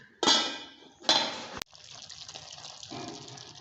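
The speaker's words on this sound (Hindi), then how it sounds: "इसमें थोड़ा सा पानी शामिल करके 5 मिनट के लिए" Water is poured into a cooking pan holding carrots for a vegetable macaroni dish, giving two short splashing gushes followed by a quieter sizzle and bubbling.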